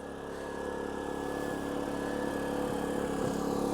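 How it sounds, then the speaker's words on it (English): An Erayak portable generator runs steadily outside an RV, a close, even engine drone with a constant whine, and it grows slightly louder as the microphone approaches, with no talk. "let's go check on the generator and see how it's running"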